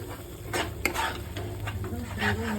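Bengali spice paste for a dried-fish (shutki) bhorta is stir-fried slowly in a pan, with soft scraping and stirring strokes over a gentle, steady sizzle and a faint clink of the spoon.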